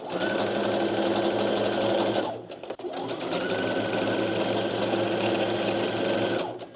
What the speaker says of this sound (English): Let me do this quick little seam